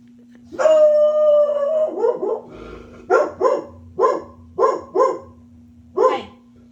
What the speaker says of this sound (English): that is my dog, Maddy Joe, who is my service dog who hears something in the hallway